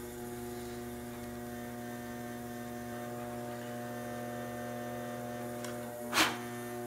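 A potter's wheel spins fast while a 3-pound bowl is trimmed, giving a steady electric motor hum at low level with a single short scrape near the end.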